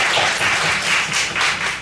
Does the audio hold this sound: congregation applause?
yes